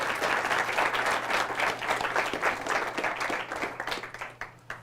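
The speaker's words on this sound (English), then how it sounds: "I hate it when you applaud first because you haven't heard anything" Audience applause at a lecture, a dense, steady crowd clapping that fills the room and starts to thin toward the end, heard alone without speech.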